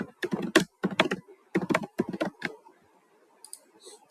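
Quick bursts of keystrokes clatter on a laptop keyboard as text is entered, with fast close clicks in short runs, then a few sparse taps and a pause.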